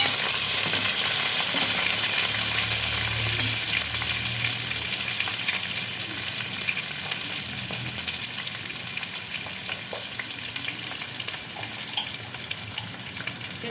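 Onions frying in a pan for a homemade vegetable dhalcha, a steady close sizzle and crackle with light stirring noise throughout, no talking over it.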